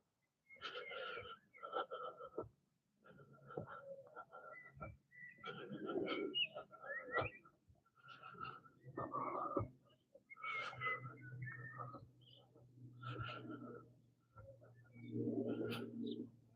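Pigeons cooing in repeated soft calls, close by and fairly clear, with a low steady hum underneath and a few flutters as birds take off.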